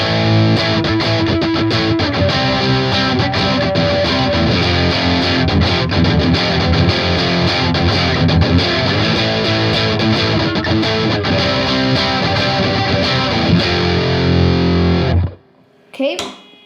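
Distorted electric guitar played through the humbucker pickup position in a rhythm part, loud and dense with sustained chords and rhythmic chugging, cutting off near the end before a brief trailing sound.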